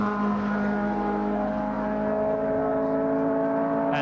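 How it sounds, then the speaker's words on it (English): A 1969 Matra Ford Formula 1 race car at the British Grand Prix gives a steady, loud engine drone with strong harmonic tones that hold for the full stretch, with no talk over it. "Stewart wins the British Grand Prix for Ken Tyrrell in the Matra."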